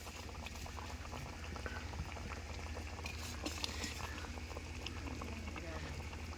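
Malugu fish curry bubbling in a pot over a village cooking fire, a steady continuous boil with soft liquid patter throughout, while a voice talks over it.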